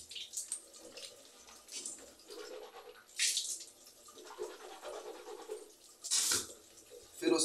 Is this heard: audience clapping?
no